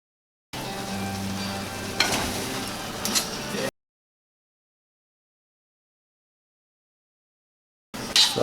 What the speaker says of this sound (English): Saute those mushrooms down in that balsamic vinaigrette.